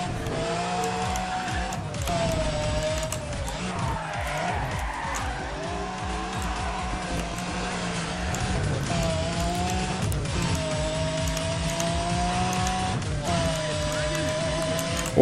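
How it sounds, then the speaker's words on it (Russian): An Audi race car in NFS ProStreet accelerates with a steady, loud engine drone and shifting gear tones, joined by tire squeal throughout. "Вот Audi едет"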